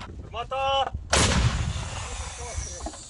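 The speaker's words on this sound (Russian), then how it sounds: "за день британская гаубица делает десятки выстрелов" A British L119 howitzer fires on the Bakhmut front: a sharp, heavy boom bursts out loud and close, then rolls into a long rumbling echo across the field, with a faint tonal sound briefly before it.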